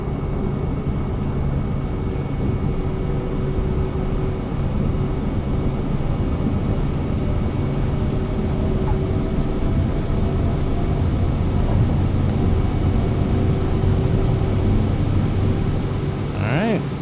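An airplane at full takeoff power in MSFS 2020 gives a loud, steady engine drone with a constant hum and no talking.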